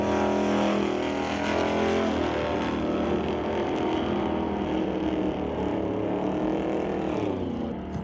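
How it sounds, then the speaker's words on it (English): Hot rod cars launching off the starting line at a drag race, a loud continuous engine roar that swells and shifts in pitch as they accelerate, heard at a distance with no talk. "Pretty even race off the starting line here."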